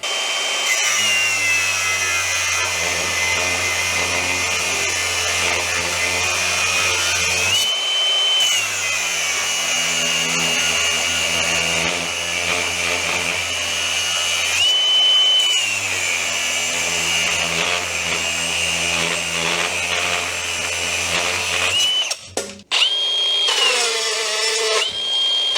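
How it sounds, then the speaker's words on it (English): A Milwaukee cordless rebar cutter running while it cuts 16mm steel rebar, a loud steady motor whine with a low hydraulic drone that stops and restarts in long cycles, ending in a sharp snap as the bar shears. "That rebar cutter is mightily impressive."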